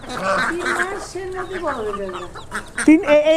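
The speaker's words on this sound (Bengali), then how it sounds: "এই যে দেখেন মোরগ আছে কতগুলা" Roosters on a backyard duck and chicken poultry farm cluck and call in short, close, repeated bursts, mixed with people talking nearby.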